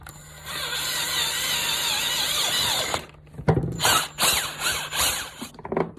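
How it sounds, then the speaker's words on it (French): A power drill bores into a part of a Yamaha 125 YZ motorcycle, whining steadily for three seconds before giving way to shorter bursts and ratcheting mechanical clicks, loud and close. "Le perçage."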